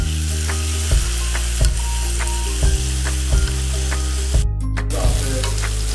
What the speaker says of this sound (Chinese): 然后放入 毛豆，这个热油的时候水分一定要把它沥干。